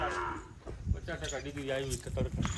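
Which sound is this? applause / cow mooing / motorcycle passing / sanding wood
cow mooing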